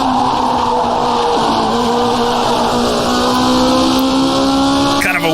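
Custom 1970s Formula 1 car engine in rFactor2 racing game, loud steady high-pitched drone rising as it accelerates, continuous throughout with a brief shift near the end.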